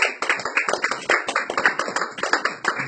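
An audience claps in a steady, dense burst of applause at a concert, many hands striking continuously with no talk over it.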